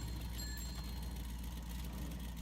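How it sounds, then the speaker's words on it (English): A thin, bell-like horn sounds on an off-road truck in the video game SnowRunner, with a few short high pings over a steady low idling engine rumble, faint and brief. "that little bell is the horn on this thing"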